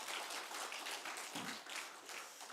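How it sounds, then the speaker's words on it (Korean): A congregation clapping hands together during a Korean church Sunday worship service, a soft, fairly distant patter of many hands that keeps going steadily throughout. "그럼 뭐 세게 한번 그러나 박수를 한번 쳐봐."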